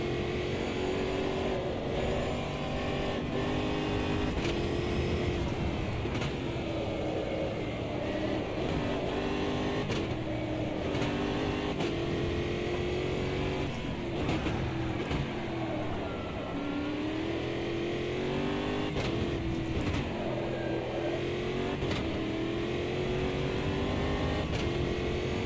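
A race car engine in the sim racing game Automobilista 2 screams continuously, rising and falling through repeated upshifts and revs for the whole stretch, loud and alone.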